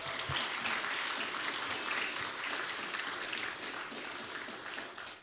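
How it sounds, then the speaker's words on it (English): Applause from a gala dinner audience during a keynote address, steady and full-bodied clapping that holds for several seconds before tapering off at the end. "Round of applause for that great American."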